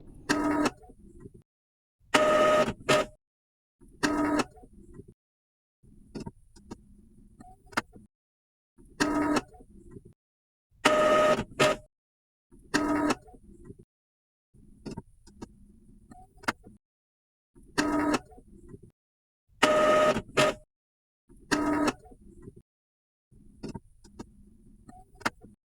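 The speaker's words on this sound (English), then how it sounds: "you might hear some mechanical sounds coming from the printer" An Epson inkjet printer runs a printhead cleaning cycle, giving repeated short bursts of mechanical whirring and clicking roughly every two seconds, separated by near-silence, close and moderately loud.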